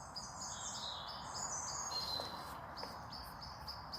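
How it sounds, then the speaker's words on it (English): A blackbird calls from a tree at a camping spot, repeated high chirps and short alarm notes over steady outdoor background noise, moderately distant with no talk. "There does seem to be a blackbird up in the tree that's annoyed at my presence."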